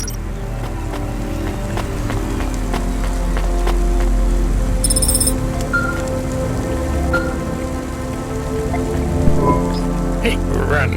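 Steady, dense rain pours down in a rainy city in the Cloudpunk video game, a continuous wash of drops on surfaces alone without talk, with a faint low rumble and a few brief tonal blips.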